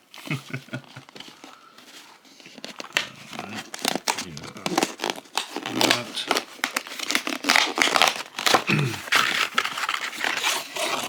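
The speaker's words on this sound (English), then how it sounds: "I'm going to try to take this off without absolutely destroying it." Close, busy crinkling and tearing of plastic wrap as it is peeled off a Steam Deck case, with intermittent scraping and rustling bursts that grow louder toward the end, and a person talking briefly over the handling.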